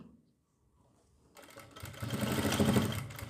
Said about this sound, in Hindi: अब यहाँ पर हमें सिलाई लगानी है वैसे ही सेम